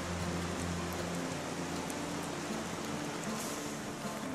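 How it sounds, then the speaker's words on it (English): Steady rain falls on a backpacking campsite in the Smokies, heard from inside a hammock as a dense, even hiss of drops with no pauses, close and constant throughout. "it is raining again and I'm enjoying it a lot more now because I'm in the hammock"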